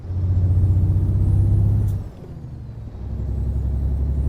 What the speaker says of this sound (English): you should be able to hear the truck a bit better now